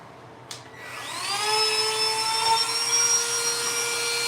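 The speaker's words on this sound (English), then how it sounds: "I need my Dremel for sure." A Dremel rotary tool spins up after a sharp click into a steady high-pitched whine that holds level for several seconds, close and loud, during apartment finishing work, with no talking.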